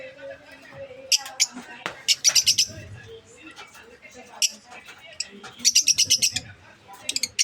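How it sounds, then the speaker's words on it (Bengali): Eight lovebirds perched in a cage give off bursts of sharp, high chirps and twitters in quick clusters, close to the mic, over steady talking. "এই যে লাভবার্ড পাখি"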